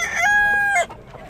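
A single rooster crows once, close and loud, a sustained cock-a-doodle-doo lasting under a second that then cuts off, at a poultry market in Kırıkkale, Turkey.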